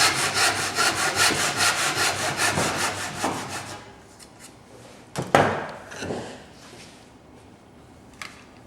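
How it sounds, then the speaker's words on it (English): A hand saw cuts relief kerfs in wood for a dovetail halving joint, with rhythmic back-and-forth rasping strokes for about four seconds, then a few sharp knocks and rustles as the work is handled, close up. "we can also put several relief cuts in there which will make it easier to chisel out"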